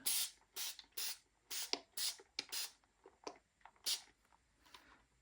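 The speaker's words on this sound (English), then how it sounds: "I will just take my spray here." A spray bottle is pumped in quick bursts, a dozen or so short hissing sprays in an uneven rhythm, close and fairly quiet.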